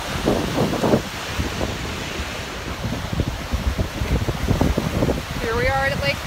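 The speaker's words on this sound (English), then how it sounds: "Windy, chilly day. It's only in the 60s. It's beautiful. It's very windy and cold." Strong wind blows on a Lake Michigan beach at a free park, a constant rushing roar with surf noise, loud and close, while a person talks over it.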